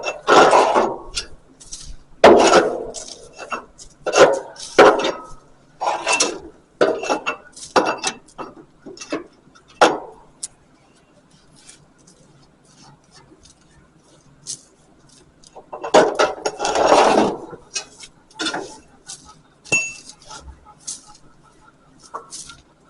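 A screwdriver and an old splitting wedge scraping and knocking at hay cutter blades, a string of sharp metallic scrapes and clatters in busy bursts, a quiet pause, then another loud flurry.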